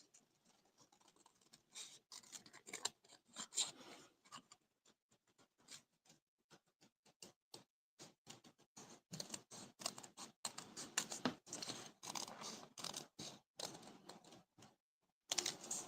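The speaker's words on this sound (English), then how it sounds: "I'm just gonna cut this part because it's too big. And then I can just fussy cut better like this." Scissors snip around a paper Christmas ornament, producing quiet, close, irregular clusters of short crisp cuts and rustles with brief pauses between them.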